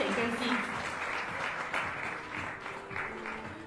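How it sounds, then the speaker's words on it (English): Steady applause from a graduation ceremony audience clapping for graduating students, a dense continuous patter of many hands filling the hall, with faint voices underneath. "Let's give a round of applause to all 31 KIPP students graduating here today"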